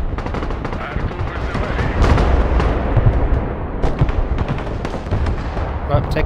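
Dense, continuous gunfire and artillery thumps from the Broken Arrow war game, a loud rolling barrage with overlapping shots that swells around two seconds and keeps crackling throughout, with faint voices mixed underneath.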